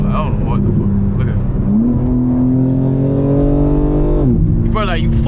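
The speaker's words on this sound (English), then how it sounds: "The car sounds fucking horrible, dude." A BMW M4 Competition with a loud exhaust accelerates up close, its droning engine note climbing through two shifts, while people talk over it.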